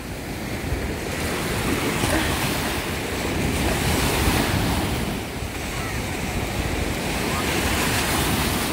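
Waves and surf roll onto the beach at Jastrzębia Góra, a loud, continuous roar that swells and eases gently, with wind buffeting the microphone.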